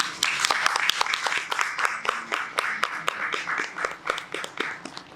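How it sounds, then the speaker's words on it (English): An indoor audience claps steadily through a corporate speech event, a dense, continuous patter of many hands at a close, even level with no voices on top. "A huge round of applause, everyone."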